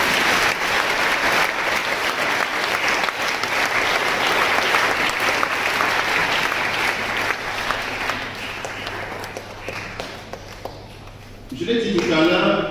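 Congregation applauding at a closing Mass of a Eucharistic weekend, dense sustained clapping from a large crowd that thins slightly toward the end before a voice begins speaking.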